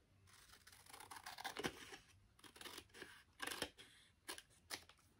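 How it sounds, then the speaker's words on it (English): Scissors snip and trim a small white piece of paper for a journal craft project, in a few short, close, crisp cuts with rustling paper between them and no talk. "we're going to take our scissors and we're going to trim off this little white piece"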